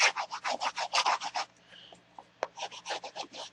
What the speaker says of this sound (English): take my bone folder and I burnish it really good